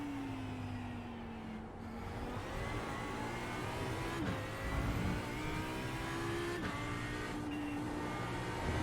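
An Audi R8 LMS EVO II GT3 race car in iRacing at Okayama drops gears toward a hairpin, its engine note sliding through blips and dips in pitch, sustained and fairly loud with no talk.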